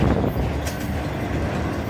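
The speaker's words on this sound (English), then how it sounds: "And there's the end of the train." Freight train with double-stacked containers rolling past on the tracks, a loud close continuous rumble and rattle of wagons with a brief metallic squeal, no talking.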